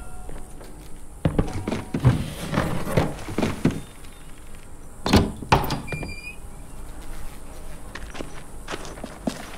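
In The Walking Dead video game, a door is opened with a series of heavy thunks, scrapes and rattles. A few sharp knocks stand out, and a brief higher whine comes near the middle.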